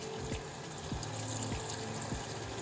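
Water running steadily into a brewing mash tun, a soft continuous trickling pour with faint periodic mechanical ticks, quiet and close with no voices.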